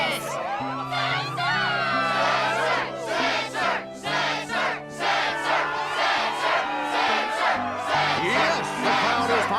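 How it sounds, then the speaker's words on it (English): A video game arena crowd in Kingdom Hearts 2 roars and cheers at a struggle tournament, with loud, layered whoops and shouts over a sustained musical backdrop and rising, pulsing waves of excitement. "the crowd is fired up"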